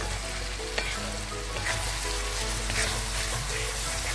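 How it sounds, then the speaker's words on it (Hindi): Soy sauce hits a hot frying pan while chowmein is cooking, giving a loud, continuous, dense sizzle with faint stirring scrapes throughout and no voices. "तो दोस्तों, 1 टेबल स्पून मैंने सोया सॉस भी डाल दिया इसमें।"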